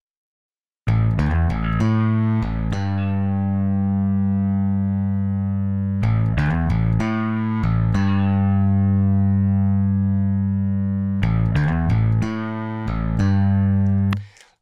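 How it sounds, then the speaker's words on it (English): A distorted electric bass line with a firm, gritty tone repeats in loud, sustained phrases, each opening with rapid plucked notes before holding a low droning note, with no talking. "let's use this firm distortion here"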